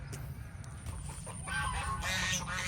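Geese honk and squawk nearby in a restless flock, the calls growing louder and busier toward the end over a low outdoor rumble.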